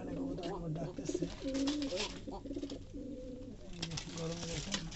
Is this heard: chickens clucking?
no